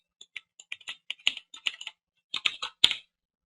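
Quick, close bursts of typing on a computer keyboard as code is entered in the Eclipse editor, in irregular clusters with a short pause partway through.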